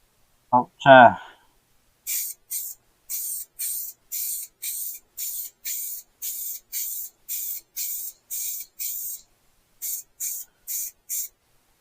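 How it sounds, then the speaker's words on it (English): Etch primer sprayed from an aerosol can onto a BSA Bantam motorcycle fuel tank in a workshop: a brief voice at the start, then about fifteen short, evenly spaced hissing bursts of spray, close and fairly loud. "So let's get a bit of this etch primer on."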